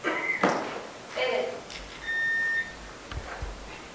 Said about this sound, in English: I was waiting on the buzzer